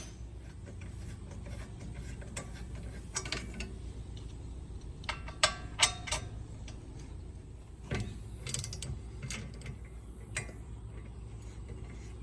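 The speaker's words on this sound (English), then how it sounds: "you will use a 6mm Allen or hex style to break them loose on top and bottom." A 6mm Allen hex key works loose the brake caliper sliding pins on a 2010 Mazda 3, giving faint scattered metallic clicks and ticks over a quiet background.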